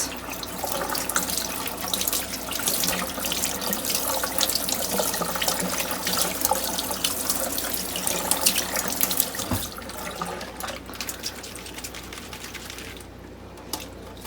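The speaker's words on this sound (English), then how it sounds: "I'm going to wash up these outside leaves for Ollie and Percy" Tap water runs steadily into a kitchen sink as outer lettuce leaves are rinsed, a continuous close splashing hiss with small shifts as the leaves are moved under the stream.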